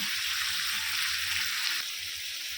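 Chicken pieces sauté in a pan for masala chicken, giving a steady, close sizzle and hiss with a faint clink partway through.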